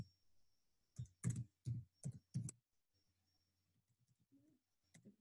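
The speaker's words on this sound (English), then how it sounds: "You can type in the code to run under button one." Code typed on a computer keyboard, a quick close cluster of about five keystrokes, then quiet with a faint rustle and one last key tap near the end.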